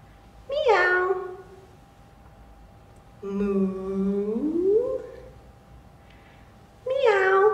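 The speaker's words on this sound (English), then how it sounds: "What animal says meow? That's right, a cat." Cat meowing in three separate calls spaced a few seconds apart, each a clear, fairly close meow heard alone with quiet gaps between.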